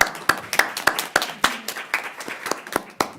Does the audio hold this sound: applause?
yes